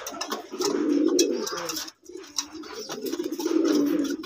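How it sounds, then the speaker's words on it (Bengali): Red-headed white pigeons kept at home coo close by in two long, throaty rolling phrases separated by a brief pause, with no talk. "এখন আমি আমার ঘরে অনেকগুলো কবুতর আছে মাশাআল্লাহ।"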